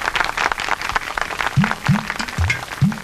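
A crowd claps to welcome a new president with a garland in a Chhattisgarhi comedy film scene. The clapping is steady and mid-level, with swooping low musical tones rising beneath it in the second half.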